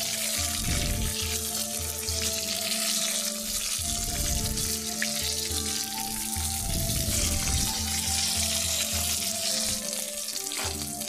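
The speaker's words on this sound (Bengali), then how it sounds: "কড়াইয়ে সরষের তেল দিয়ে ভালো করে গরম করে নিতে হবে। তারপর মাছের পিসগুলো একে একে ছেড়ে উল্টে পাল্টে লাল করে ভেজে তুলে" Brigade fish pieces frying in hot mustard oil in a wok give a steady, loud sizzle throughout, with low bubbling swells coming and going and no voices.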